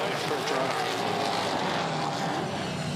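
A Supercars race car at Sandown in 5th gear cresting a hill, its engine a steady, dense roar holding flat out for the whole stretch, with commentary talk layered over it.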